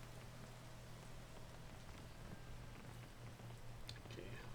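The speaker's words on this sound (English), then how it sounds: "Not going to climb when it's raining." Steady rain falls in the climbing game Peak, a dense continuous patter of drops on surfaces holding at an even level throughout, with a low droning tone underneath and no talking.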